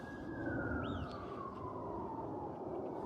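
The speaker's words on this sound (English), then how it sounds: "When you hear them damn sirens in the background, sirens all goddamn day long." Emergency vehicle sirens wail faintly in the distance, one long falling tone and a brief rising whoop, over a steady wash of traffic and city noise.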